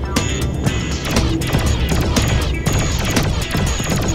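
Rapid gunfire from a standard weapon shooting at targets in the PC game Yager, a dense, loud stream of shots with sharp bursts and occasional heavier impacts, continuous throughout with no talk.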